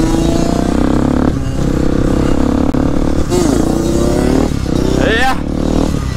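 A Yamaha DT125 motorcycle engine runs steadily and loudly near the microphone, with a continuous droning buzz and a few pitch swells as it is revved, while people talk over it.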